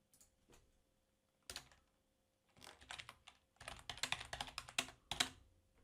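Bursts of computer keyboard typing while entering a parameter name in Autodesk Inventor, close and clear, with a few isolated clicks followed by quick irregular runs of keystrokes in a quiet room.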